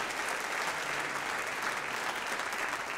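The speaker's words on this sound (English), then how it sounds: "let's give the board and our constituent leadership a round of applause for that commitment" A college convocation audience gives a steady round of applause, a dense, even wash of clapping that stays constant at moderate, somewhat distant level.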